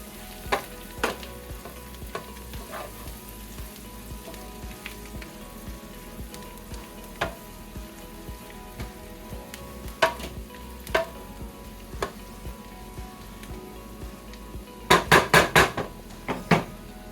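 Garlic fries in a pan for haluski, a soft steady sizzle punctuated by scattered utensil clinks, ending with a quick burst of metallic scraping and tapping against the pan.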